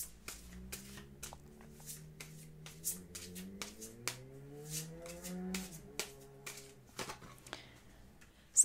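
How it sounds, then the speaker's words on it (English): A deck of oracle cards being shuffled and handled at close range, with a string of sharp, irregular card flicks and snaps over a soft hum of background music, and no one talking. "I'm just going to put them back on the deck and continue to shuffle."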